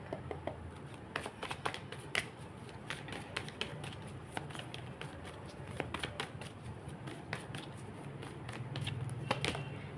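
Tarot cards being shuffled during a reading: soft, irregular riffling and slapping of cards close by, quiet and alone.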